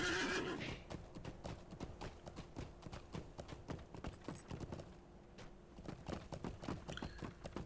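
A horse in the video game Lord of the Rings Online whinnies briefly, then hooves beat in a quick, rapid galloping rhythm, close and steady throughout.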